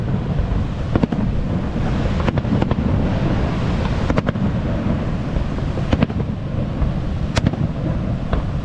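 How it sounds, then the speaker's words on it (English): Fireworks burst over Niagara Falls, seen from the Canadian side, with sharp cracks and pops at irregular intervals over a constant loud rushing roar. "Dazzling fireworks on the Niagara Falls."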